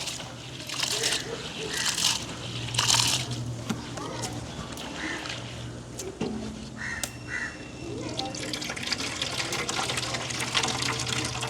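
Continuous splashing and sloshing of water with hands rubbing soaked grains to remove husks for idli batter, steady and close, with a low hum underneath.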